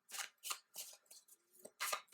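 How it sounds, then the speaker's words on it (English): Tarot cards shuffled by hand in a few short bursts, crisp papery riffles separated by brief pauses, close and fairly quiet. "Let me shuffle these again."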